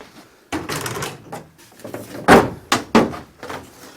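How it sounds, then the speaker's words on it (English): Several solid door thuds and slams on an ADO16 Ranger kit car ring out one after another, close and sharp, with quieter handling noises between the louder closes. "That's a door, folks"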